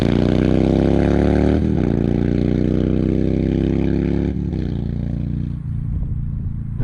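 A Harley-Davidson Heritage V-twin with a Tab Performance slip-on exhaust and medium 2 1/4 inch baffles idles and revs up close, a loud, deep, steady rumble that rises and dips in pitch with throttle blips, then settles.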